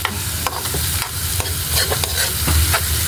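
A spoon stirs garlic and sauce in a sizzling pan for Filipino chicken adobo with native chicken. It makes loud, close scraping strokes in a quick, uneven rhythm over continuous frying.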